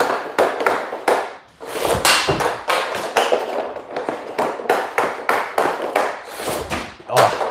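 Hockey pucks shot at a net during home shooting practice, a rapid series of sharp cracks and solid thuds, close and loud, following one another in quick, uneven succession.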